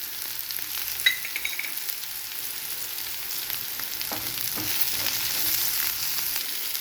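Fresh coriander leaves fry in a pan with a pinch of turmeric while spinach and moong dal are cooked: a continuous close sizzle, with a few faint clicks and a slightly rising hiss toward the end, no talking.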